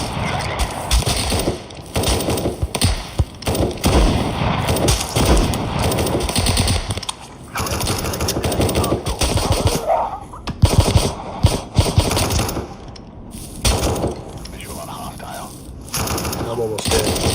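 Rapid bursts of automatic gunfire from a zombie shooter video game fill the whole stretch, loud and dense, with a voice talking over parts of it.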